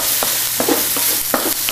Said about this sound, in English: On a nice high heat, saute that.